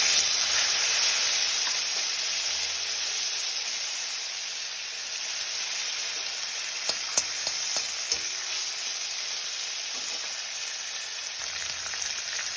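Cumin paste with five-spice seeds, dried chilli and a bay leaf sizzles in hot oil in a wok, a steady bright hiss throughout with a few light stirring clinks.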